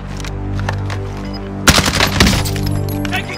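Gunfire in a battle royale video game: a dense burst of rapid automatic shots erupts midway and rattles on loudly, over a steady background music drone.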